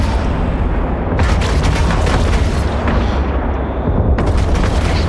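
Ship weapons firing in the EVE Online video game, a dense sustained roar of booming blasts with repeated sharp volleys rising at intervals, loud and continuous.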